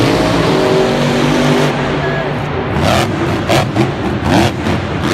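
A Monster Jam monster truck at a 2020 arena show in Miami roars with a loud, sustained engine drone that swells and revs, with pulsing surges toward the end and commentary running underneath.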